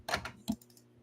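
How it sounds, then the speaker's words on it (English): Several sharp clicks from a computer mouse button being pressed, close and fairly quiet, a quick burst of taps followed by a single firmer click. "I'm clicking the button right now."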